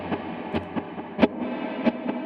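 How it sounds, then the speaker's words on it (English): An electric guitar runs through a delay effect on a Line 6 Helix processor, with short picked notes followed by repeating echoes at a moderate, steady level. "So this is delay."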